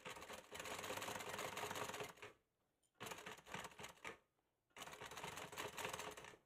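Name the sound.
sewing machine stitching a bag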